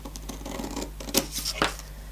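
Scissors snip through a folded book page, a few short close scratchy cuts with faint rustling of paper between them, no talking.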